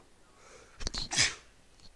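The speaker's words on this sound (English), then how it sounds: "I sneezed." One close sneeze: a quick sharp inhale followed by an explosive burst, set against near silence.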